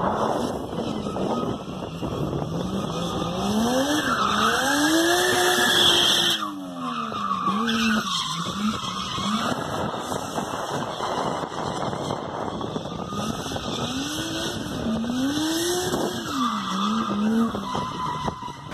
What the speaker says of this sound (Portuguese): Vou mostrar umas imagens para vocês dele fazendo drift lá no Beto Carreiro.